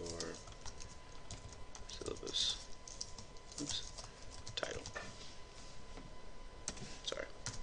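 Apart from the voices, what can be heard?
typing on a computer keyboard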